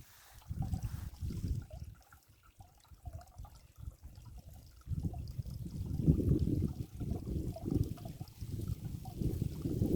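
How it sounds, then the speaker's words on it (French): Water burbles and trickles steadily nearby, a continuous low gurgling flow that swells a little partway through. "C'est tellement détendant le son du ruisseau qui coule comme ça."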